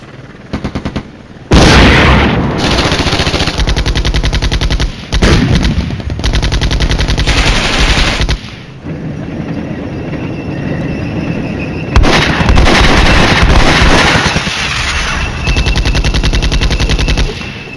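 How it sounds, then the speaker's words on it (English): Tank cannon fire and explosions in the wargame Flashpoint Campaigns, a Scout tank engaging BMP armored vehicles: loud, dense volleys of shots and blasts in repeated bursts, with brief lulls between the salvos. "Nice shot by the Scott tank already."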